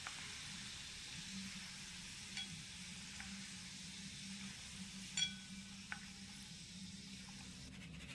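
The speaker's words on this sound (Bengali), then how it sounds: "কিছুক্ষণের মধ্যেই দেখবেন খুব সুন্দরভাবে ভাজা হয়ে যাবে" Semolina boondi fry in hot oil with a faint, even bubbling sizzle, broken by a few light utensil taps, no voices.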